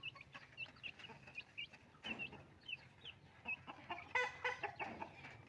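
Free-range country chickens with five chicks nearby: soft hen clucks mixed with high, thin peeping from the chicks in short repeated bursts, fairly close and growing livelier toward the end.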